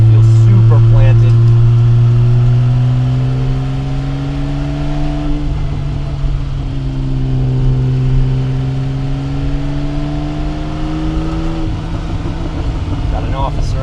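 A triple-black Porsche 911SC Coupe held in third gear on a twisty road, its flat engine revving in steady rising pulls with gear-held surges, loud and close from inside the cabin.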